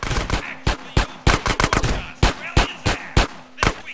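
Rapid gunfire from a gun in the video game GTA San Andreas, loud close bursts of shots in irregular quick succession with no speech.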